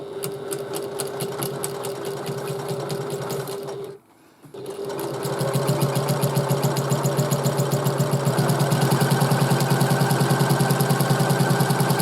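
A sewing machine runs steadily, stitching pieces of bag fabric together with a fast, even mechanical chatter, pausing briefly before resuming at a slightly quicker pace, heard alone and close.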